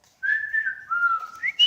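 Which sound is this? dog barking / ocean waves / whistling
whistling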